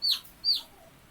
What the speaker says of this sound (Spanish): Pero un pollito.